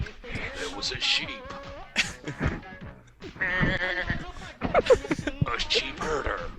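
Sheep bleats used as a sound effect in a comedy skit, several wavering cries in quick succession mixed with other busy sound and music, fairly loud.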